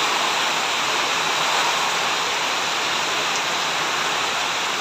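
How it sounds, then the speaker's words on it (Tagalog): Heavy rain pours steadily in a dense, constant hiss with strong wind, a loud continuous wash with no gaps and no voices over it. "Lakas ng ulan."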